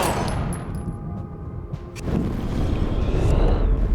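Gunfire rings out in the video game Life is Strange during a tense confrontation scene. Loud, close bursts of shots and booms crack over a rumbling, reverberant background.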